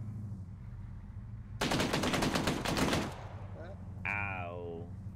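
A loud, rapid machine-gun burst of about a dozen evenly spaced shots lasting over a second in a military video game, set against a steady engine drone, with a voice heard afterward.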